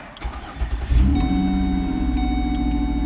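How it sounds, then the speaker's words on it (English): A 2008-2012 Ford Escape starts by plug-and-play remote start: a brief starter crank lets the engine catch with a rising surge, then it settles into a steady close idle, with a few faint clicks and no voices. "and your car will start"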